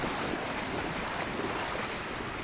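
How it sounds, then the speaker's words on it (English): Fast-flowing water of the Housatonic River after the Irene flood rushes in a dense, steady roar, close and continuous, with some wind buffeting the microphone. "The water is still flowing pretty fast."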